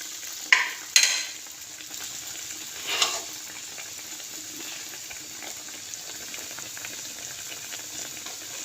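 Slice parda pakora frying in ghee, a soft continuous sizzle with a few sharp clinks and scraping stirs early on, close and fairly quiet with no talking.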